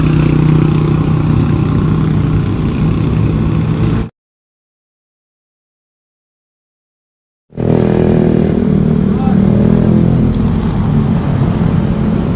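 A motorcycle engine runs loud and close during a test ride after a roadside repair. The steady rumble cuts out completely for a few seconds midway, then returns just as strongly.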